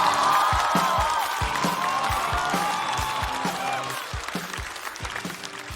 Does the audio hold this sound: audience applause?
yes